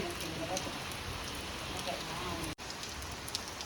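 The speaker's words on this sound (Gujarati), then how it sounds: "અત્યારે આપણે વરસાદ છે ફૂલ ચાલુ થઈ ગયો છે" Heavy rain pours down steadily in a dense, even hiss, with a brief dropout partway through before the downpour continues.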